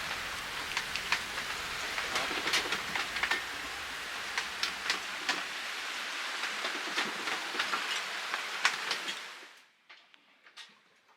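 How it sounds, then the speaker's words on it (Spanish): Heavy rain pours steadily during a storm at sea, dense drops pattering on a surface, then cuts off abruptly near the end, leaving only faint scattered drips. "está lloviendo sí, un montón."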